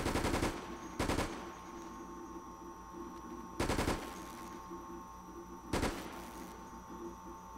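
Bursts of gunfire from Resident Evil: Operation Raccoon City as squad members shoot at servers, three loud volleys at steady intervals over a continuous background hum.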